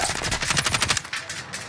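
Rapid automatic gunfire in Warzone, a fast rhythmic burst of close, loud shots for about a second, then a quieter tail of fading echo and game ambience.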